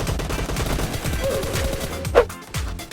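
Rapid gunfire bursts in PUBG Mobile, a dense run of close repeated shots with a brief sharp impact near the end, no talking.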